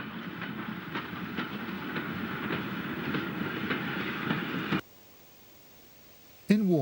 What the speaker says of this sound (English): Standard Class 5, number 76029, with the 6:25 a.m. up goods from Evercreech Junction on the 26th of January